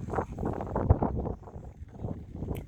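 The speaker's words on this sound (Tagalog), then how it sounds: "Lakas ng hangin guys" Steady low roaring rumble of strong wind buffeting the microphone near Yat Tung Pier on Lantau Island, Hong Kong, continuous and close, with no voices.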